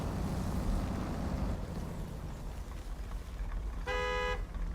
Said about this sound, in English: There's your horn.